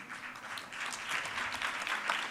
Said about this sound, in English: I would like to request you to give a round of applause to our two panelists